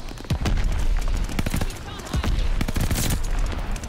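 Rapid bursts from a DP-27 machine gun in a first-person shooter video game, several close, loud volleys of automatic fire with short pauses between them, a voice talking faintly underneath.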